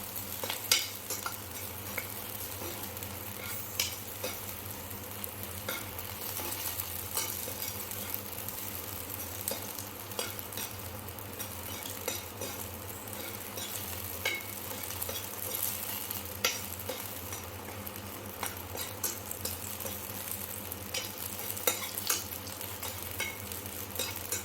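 Green chillies fry steadily in a pan for guava chutney, giving a continuous close sizzle with occasional stirring scrapes and light utensil clinks throughout, no talking.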